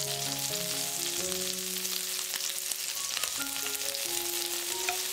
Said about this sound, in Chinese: 煎的过程中按压一下虾头，